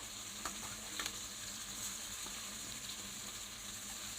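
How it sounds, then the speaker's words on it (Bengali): Chopped capsicum and cabbage fry in a pan with a soft, steady sizzle and a few stirring scrapes, quiet and close, with no one speaking. "এবার এটাকে আমি ভালো করে একটু ভাজা ভাজা করব"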